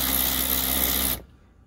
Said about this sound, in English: I've got this little Chemo 3/8 drive cordless drill